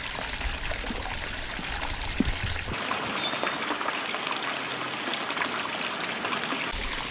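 Water pouring steadily into a garden fish pond over its liner, a continuous rushing stream that turns broader and more even partway through, with no talk.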